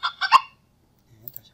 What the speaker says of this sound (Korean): 주변에 위협이 된다고 생각하는 땅에서 나타나는 포식자들에게 대해서 내는 소리입니다.